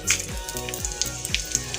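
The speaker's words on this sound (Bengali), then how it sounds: "ওই তেলের মধ্যে আমি শুকনো লঙ্কা আর কালো জিরে ফোড়ন দেব" Steady sizzling of dried chillies and nigella seeds in hot oil, a bright crackly hiss with small pops, close up and alone.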